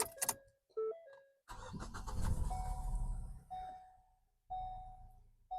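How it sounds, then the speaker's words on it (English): A Ford Focus engine turning over and then running at idle, with clicks and a chime before the start and a steady low rumble that settles and fades, close by and without talk. "Now with the engine running"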